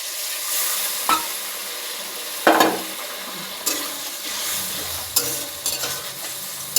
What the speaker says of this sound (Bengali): এবার হালকা গরম জল দিয়ে দেবো